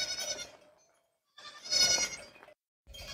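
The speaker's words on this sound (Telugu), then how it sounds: "మంచి మేకలు కూడా వస్తున్నాయి" Goats bleat in three separate calls, loud and close in a rural setting, with brief silences between them.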